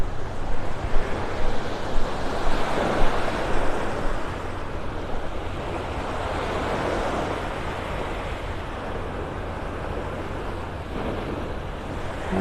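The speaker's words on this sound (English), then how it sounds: "some waves breaking out over the sandbar out there" Waves break over a sandbar off a beach in North Naples, Florida, a continuous rolling surf wash with gusts of wind buffeting the microphone, louder early on and then settling into an even roar.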